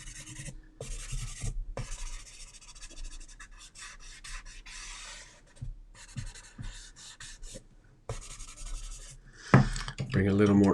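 Pencil strokes scratch and rub across paper while a horse drawing is shaded, soft bursts of rasping broken by short pauses, with louder scraping near the end.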